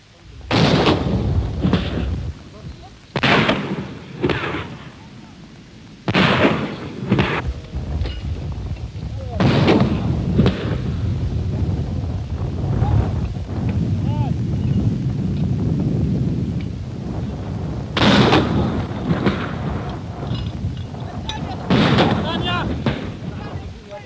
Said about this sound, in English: 107mm recoilless rifles cut a path for the infantry through the wire and the mines.